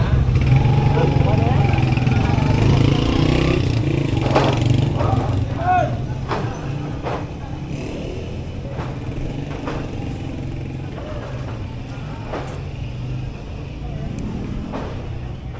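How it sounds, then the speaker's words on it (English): Motorcycles and cars pass along a street near Walking Street, their engines droning loudly at first and then easing to a lower, continuous background hum, with voices talking now and then. "Traffic."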